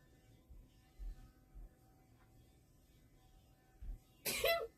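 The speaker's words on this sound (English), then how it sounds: "I have lost count of how many times I have sneezed" A single person sneezes loudly and close up near the end, after a few soft throat sounds and low thumps over a quiet background hum, during an outdoor live stream in Brunswick, Georgia.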